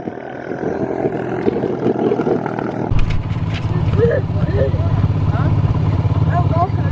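A dirt bike engine rumbles and revs unevenly while a rider works the clutch, the low steady drone kicking in partway through and holding, with people talking over it.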